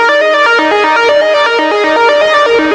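A transposed MIDI synth melody plays alone, a bright, steady lead line that steps through the notes of the scale at a moderate pace with no gaps between them.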